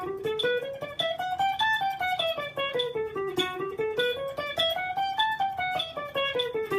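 An electric guitar plays economy-picked triplets, a rapid, even run of notes climbing and descending a scale in a continuous rolling rhythm, clear and close.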